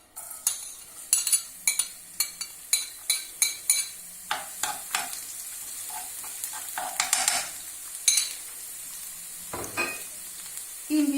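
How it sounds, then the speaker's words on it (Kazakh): Garlic sizzles and fries in oil in a pan set over a wood fire while a utensil stirs it, giving a dozen sharp, regular scraping strokes up close, then looser stirring and a steady hiss, with no talking. "Енді қазір міне чесногымызды қуырам."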